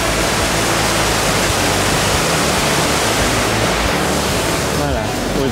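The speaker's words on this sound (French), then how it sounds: "L'eau qui coule juste au-dessous." Water rushing below a canal lock on the Nantes–Brest canal, a loud, steady broadband roar of flowing water that fills the whole clip without a break.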